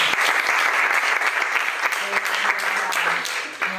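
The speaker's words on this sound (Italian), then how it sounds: "facciamo un applauso anche a lui" An audience applauds a professor at a tech event, loud sustained clapping from a sizable crowd lasting throughout, with a few voices faintly mixed in.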